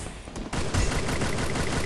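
Rapid bursts of gunfire crackle loudly and continuously, dense and close, like an automatic weapon firing in the game Free Fire.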